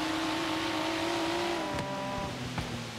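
A Subaru BRZ engine in Forza Horizon 3 holds a steady, loud note under a gently feathered throttle, then dips and shifts pitch, with faint tire noise toward the end.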